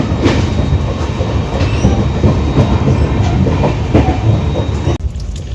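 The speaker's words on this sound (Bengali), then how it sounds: "আমাদের দূরান্তকে ওভারটেক করে চলে গেল। ট্রেন এখন আমাদের পার করছে" Seen from aboard the Duranto Express near Chittaranjan, a train from Benares to Sealdah runs past as a loud, continuous rumble with rhythmic clickety-clack of wheels, then drops away abruptly near the end.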